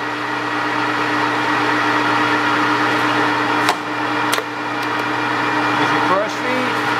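A Kingston HJ-1700 17 x 67 inch lathe runs at about 650 RPM with the carriage feeding toward the chuck, giving a steady close mechanical hum with layered tonal whine and a couple of brief clicks.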